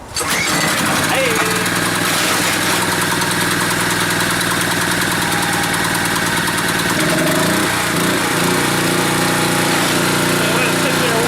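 A small pull-start generator engine fires up and keeps running at a steady, loud mid-pitched idle, with its chugging rhythm settling slightly after several seconds.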